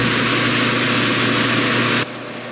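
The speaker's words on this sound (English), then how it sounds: "I'm also standing under an exhaust fan to do this, so pardon the noise." Steady broadband whoosh of an exhaust fan running close by, continuous and loud, then cutting to a quieter hum near the end.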